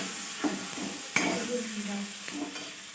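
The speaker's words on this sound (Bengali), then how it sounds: "এই যে দেখো মশলাটা কষে নিচ্ছি" Spice paste being fried down and stirred in a pan in a home kitchen, a steady soft sizzle with a few sharp scrapes and clinks of the spoon against the pan.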